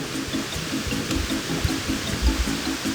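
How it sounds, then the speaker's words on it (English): A video-game waterfall gives a steady, even rush of falling water with a faint low patter and a soft repeating pulse beneath it, constant and continuous. "It's gotta be the sound of the waterfall,"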